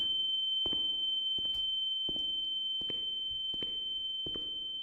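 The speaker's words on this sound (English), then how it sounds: "Oh, that's a nice ringing sound." A steady high-pitched ringing tone in the video game The Town of Light, continuous and unbroken across the whole stretch, with a series of soft knocks or thuds beneath it at irregular intervals.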